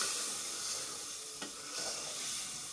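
Potatoes, about three of them, frying in hot oil, giving a steady close sizzle and hiss that holds throughout, with one brief clatter partway through.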